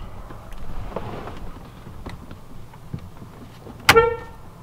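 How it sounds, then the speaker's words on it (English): A short car horn toot sounds once, near the end, from an '03-'06 Chevrolet Silverado while its steering wheel is being clipped in, after a few faint clicks and handling noises inside the cab. "your horn might honk a little bit, but that's clipped in now"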